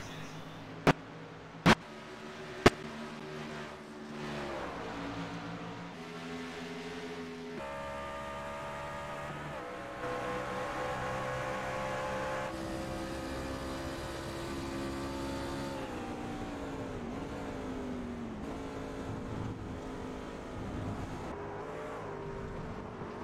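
Racing trucks drone steadily through a PC sim race, engines rising and falling as they shift and corner, with a few sharp clicks at the start and a continuous mid-level mechanical roar throughout.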